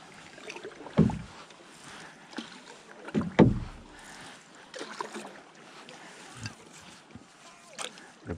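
Paddle strokes splash and knock against an old, somewhat flexy canoe out on open water, a few irregular dips and thumps over soft wind noise, with no talking.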